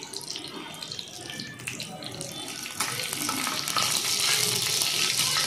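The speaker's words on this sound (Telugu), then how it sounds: "కరివేపాకు కూడా వేగాలి" Curry leaves and dried red chillies frying in hot oil, a steady hissing sizzle close by that swells louder partway through and continues without any talk.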